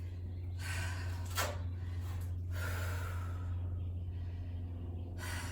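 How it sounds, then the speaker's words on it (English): Heavy breaths and sharp gasps from a person resting between workout sets, several drawn-out inhales and exhales close to the mic over a steady low hum, with no talking. "just taking a good couple of minutes to breathe here"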